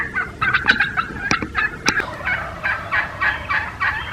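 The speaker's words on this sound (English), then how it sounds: "So fly down cackle, and that is a hen leaving the roost." Wild turkey hen cackles while flying down from the roost, a run of sharp, uneven clucks that starts fast and settles into a steadier rhythm, fairly close and alone over a quiet outdoor background.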